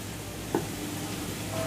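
Gobi manchurian tossed with spring onion and coriander in a pan gives a soft, steady sizzle, with one brief scrape of the spoon near the start and otherwise a quiet, even hiss.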